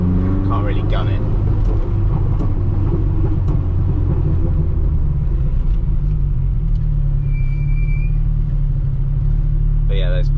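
A Lotus Esprit's engine rumbles steadily at low speed while driving through a village, a continuous deep drone heard from inside the car with someone talking over it and brief faint squeaks.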